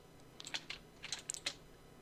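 Shortcut key combinations are pressed on a computer keyboard while working in Illustrator, giving a handful of soft, close key clicks in quick, uneven bursts with nobody speaking.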